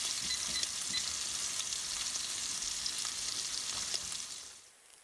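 Pork chops sizzle and fry in a pan, a steady bright crackling hiss that holds for several seconds, then fades away toward the end, with no talking.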